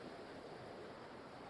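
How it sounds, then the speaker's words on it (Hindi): Water flows steadily in a natural outdoor setting in Mussoorie, a soft, continuous wash heard for a brief moment with no voices. "पानी की अच्छी आवाज आ रही है।"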